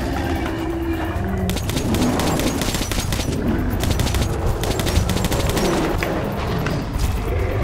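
Sustained rapid gunfire from Metro: Last Light aimed at a creature, a dense, loud, continuous barrage that runs throughout, with rumbling game noise beneath it.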